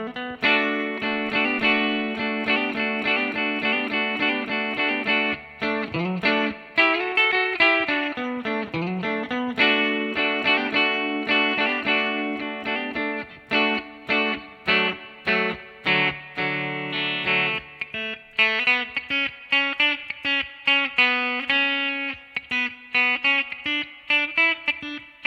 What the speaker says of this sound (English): the guitar solo sounds like this